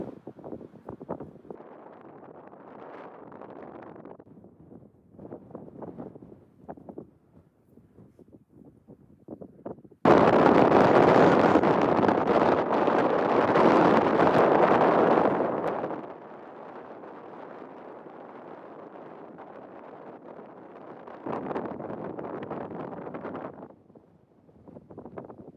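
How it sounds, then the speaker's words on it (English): Strong gusting wind buffeting the microphone on the summit of Sierra Grande, a dormant volcano in New Mexico, with intermittent roaring gusts, a loud sustained blast in the middle, then a steadier rush. "it is super windy up here."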